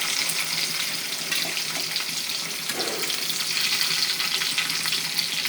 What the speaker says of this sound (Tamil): வெங்காயம் போட்டுக்கோங்க. வதங்கட்டும்.